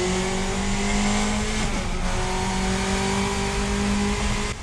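Lotus 49 Formula One car in a racing video game, its high-pitched engine screaming at sustained high revs with a brief gear-change dip, loud and close throughout with no talking.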